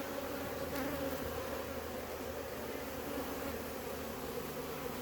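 Honeybees in an opened hive make a steady, dense buzzing hum, faint and continuous, while the colony balls a queen during a hive split, with no voices.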